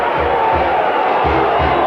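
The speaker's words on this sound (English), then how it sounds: "And the sellout crowd here at Notre Dame Stadium as they greet the number 1 team in the country" A sellout stadium crowd cheers at Notre Dame Stadium before a college football game against Florida State, a dense, continuous roar with rising whoops and yells, loud and enveloping.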